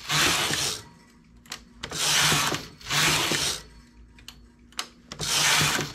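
A domestic knitting machine carriage is pushed back and forth across the needle bed while a colored diamond pattern is knitted. It makes four loud, hissing, rattling sweeps in a steady rhythm, separated by small clicks as needles are raised by hand.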